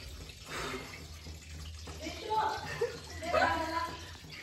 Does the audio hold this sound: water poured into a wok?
yes